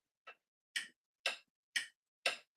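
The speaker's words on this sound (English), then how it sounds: "there is going to be a timer on the clock, a strict timer on the clock, and you will hear this sound" A timer clock sound for a pitch event gives five evenly spaced, crisp ticks about half a second apart, the first softer, heard alone in silence.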